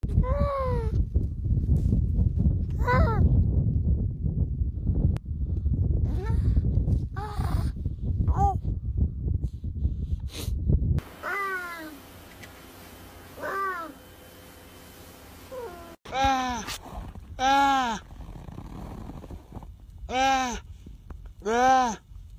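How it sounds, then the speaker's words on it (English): A series of high, wavering bleating calls from young seals, repeated at irregular intervals, some loud and close, over a rumbling, noisy background. "This is what different baby seal noises sounds like"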